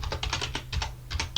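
Quick keystrokes on a computer keyboard as a Linux command is entered, a close run of about a dozen light clicks with a brief pause midway.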